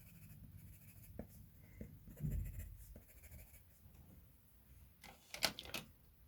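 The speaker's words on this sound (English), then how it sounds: "So just going to put a little bit more pressure on my pencil there." Pencil pressed firmly onto paper while shading a blue eye in a colour drawing, giving soft, close scratchy strokes with a few brief louder scrapes and taps in a quiet room.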